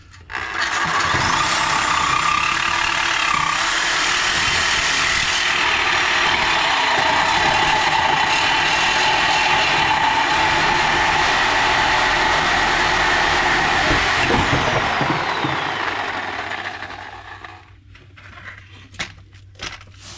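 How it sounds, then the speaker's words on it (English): A Sawzall reciprocating saw with a dull blade grinds through the catalytic converter pipe under a 2005 Honda, a loud, continuous harsh buzzing that runs for about seventeen seconds before stopping abruptly, leaving a low hum and faint rattles. "Let's try this again with the Sawzall."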